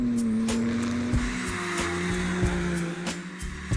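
A new BMW M3 on a race track revs hard and loud, its engine note rising and dropping through gear changes, with brief tire squeals and no voices.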